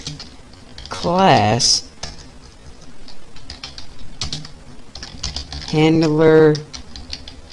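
Computer keyboard keys clatter in short bursts of clicks while someone types Java code, with someone talking over and between the keystrokes.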